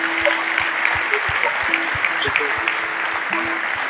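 Congregation at a French-speaking church service clapping steadily and loudly to acclaim the Lord, with rhythmic beats and a continuous busy crowd wash, sustained tones like an instrument or singing running underneath.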